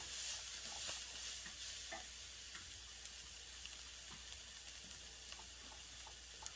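Masala for Mangalore-style bonda sukka frying in a pan and being stirred, a steady close sizzle with scattered scraping taps of the spoon, no talk.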